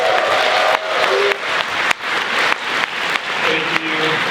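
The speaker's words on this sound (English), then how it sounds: "If you can give A24 a big round of applause." An audience applauding at a film screening Q&A in a theater, a broad sustained clapping from a full crowd, loud and even from start to finish without speech.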